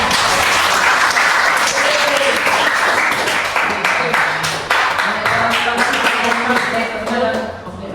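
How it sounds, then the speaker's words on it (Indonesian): A classroom full of students applauds a student group that has just presented during a biology practice-teaching lesson, with steady, dense clapping that continues throughout and fades slightly near the end. "Kita beri tepuk tangan untuk kelompok 5."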